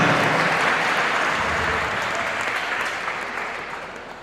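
Children in the audience at a Hindi poetry gathering (kavi sammelan) in Najibabad, Bijnor clap loudly together, a dense wash of applause that gradually fades over about four seconds.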